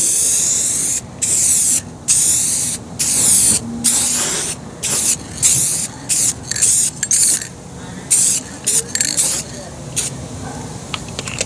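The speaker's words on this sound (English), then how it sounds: "Not the ideal day to be spraying," Aerosol can spraying clear coat outdoors to clear fogged plastic, heard as a series of loud hissing bursts of varying length, some long and some short, separated by brief pauses, with faint background noise between sprays.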